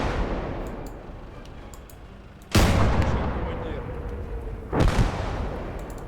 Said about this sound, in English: We'll keep that artillery pounding.